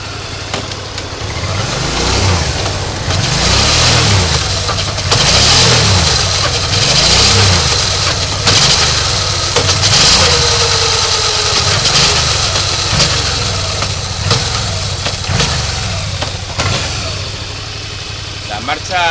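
A Suzuki V-Strom motorcycle engine runs steadily near and loud with a rhythmic pulsing throb as gears are shifted, slight revs rising and falling throughout, with no talking.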